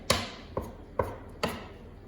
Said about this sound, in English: So we've got our gnocchi all chopped up